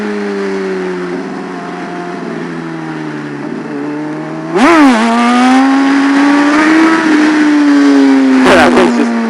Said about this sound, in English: I'm going to try and pull a good first gear wheelie for you.